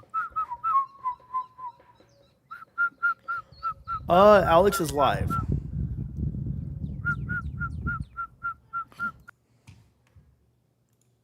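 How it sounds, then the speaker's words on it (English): Outdoors, a bird gives rows of short, clear, evenly spaced whistled chirps, then goes quiet while a person talks, and the chirping series starts again afterward. "You know, you hear the bird?"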